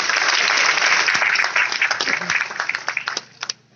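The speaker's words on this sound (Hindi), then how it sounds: "एक बार जोरदार तालियां फिर से आपके लिए" Loud audience applause at a Hindi-language motivational business meeting, a dense roar of clapping that starts full and then thins into scattered claps before fading out.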